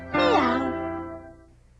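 A cat gives a single loud, drawn-out meow in a Meow Mix cat food commercial, rising and then fading away, heard alone and close.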